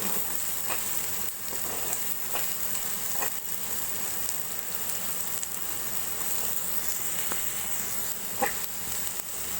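Onion paste frying in hot oil makes a steady, close sizzle that carries through the whole stretch, with faint scattered pops and occasional stirring clicks.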